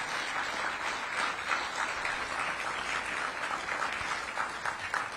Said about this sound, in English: let's give a round of applause to all the folks who are here